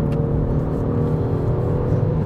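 A 2019 Genesis G70 rumbles under hard braking through a corner on sticky Michelin tyres, a steady low engine and road drone heard from inside the car, continuous and moderately loud without speech.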